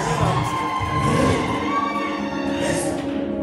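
A church congregation cheers and shouts together after a call for noise, a moderately loud crowd roar with children's voices mixed in, sustained for a few seconds.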